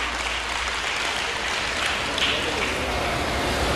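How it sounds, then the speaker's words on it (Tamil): Children in an audience at a talk clapping together, a steady continuous patter of applause throughout, moderately loud with no break. "இந்த கைத்தட்டுற பிள்ளைகள் இருக்காங்கல்ல"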